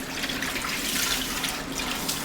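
Running water from a tap steadily rinses hair during a wash-and-go styling routine for kinky hair, a continuous close splashing flow with no talk over it.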